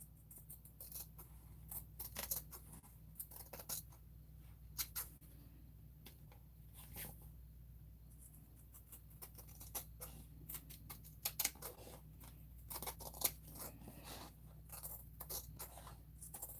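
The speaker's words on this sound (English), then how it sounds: "now I'm gonna go carefully and trim off the excess" Scissors carefully trimming excess fabric off a fabric envelope, a quiet series of small crisp snips and clicks in irregular clusters over a low steady hum, close by.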